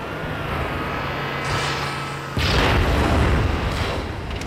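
A rocket launcher fires and detonates in Halo 2 multiplayer: a steady low hum gives way to a sudden loud boom that rolls on as a broad, rumbling blast for a couple of seconds.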